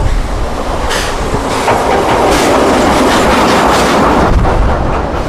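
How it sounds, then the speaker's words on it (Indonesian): A red Thomas toy train runs with continuous loud rumbling and clickety-clack rolling noise, steady and close throughout with no speech. "ada kereta api Thomas warna merah."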